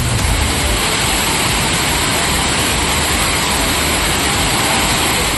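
Thirparappu waterfall roars with a loud, unbroken rush of falling water, a dense steady wash of noise with no pauses and no voices standing out.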